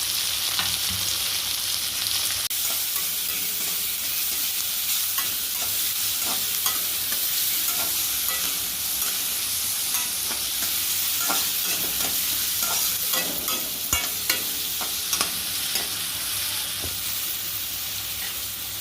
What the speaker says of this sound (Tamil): கட் பண்ணி வச்ச வெங்காயத்தை போட்டு நல்லா வதக்கிக்கலாம்.